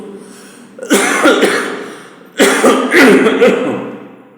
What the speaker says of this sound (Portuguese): vai tossir o tempo inteiro